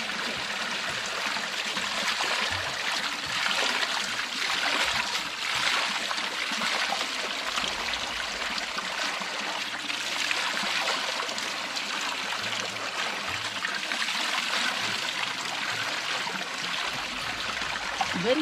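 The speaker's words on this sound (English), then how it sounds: "this is the stream here, and we have clean drinking water" A stream of clean drinking water in an African village flows and trickles steadily, close and constant, with a gurgling wash throughout and no talking.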